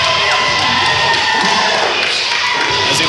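Wrestling arena crowd roaring and cheering for the entrance of a former heavyweight champion at an XWE event, a loud sustained wash of voices with scattered thuds and shouts throughout.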